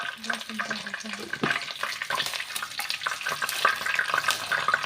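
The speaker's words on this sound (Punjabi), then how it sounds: "ਤੇਲ ਆਪਣਾ ਗਰਮ ਹੋ ਚੁੱਕਿਆ ਥੋੜਾ ਜਿਹਾ ਕਦੀ ਜੀਰਾ ਐਡ ਕਰ ਦਾਂਗੇ" Cumin seeds added to hot oil for a savoury namkeen dish, a crackling sizzle with scattered pops and clinks from the pan, steady and close.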